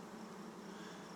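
Honeybees buzzing on a hive frame during a hive inspection: a steady, close, even hum of many wings with no breaks or talking.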